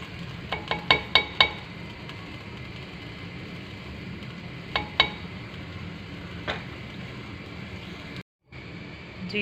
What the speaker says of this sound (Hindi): मैंने अदरक लहसुन डाल के अब इसको भूना है